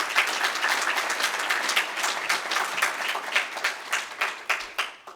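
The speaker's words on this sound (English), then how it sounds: "So again, round of applause for Jeremy," Audience applause after a state aging director is introduced at an Oklahoma aging-services event, steady clapping that holds for about five seconds and then breaks into a few fading bursts, with no voices over it.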